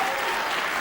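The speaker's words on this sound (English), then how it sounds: "Ronnie O'Sullivan gets a warm appreciation from the crowd" Snooker crowd gives Ronnie O'Sullivan a warm round of applause, a dense steady clapping from a full audience in a brief burst.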